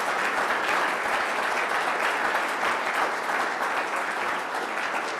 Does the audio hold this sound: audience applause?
yes